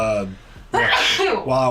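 During a podcast recording, a person sneezes once in a short, loud, sharp burst between stretches of someone talking.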